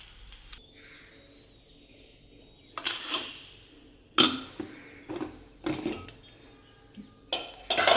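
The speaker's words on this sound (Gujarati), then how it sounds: "કુકર ખોલીને જોઈ લેશું." A pressure cooker holding an ivy gourd and potato curry is opened by hand: a few sharp metallic clanks and scrapes of the lid in separate bursts, close by, with quiet pauses between them and no talking.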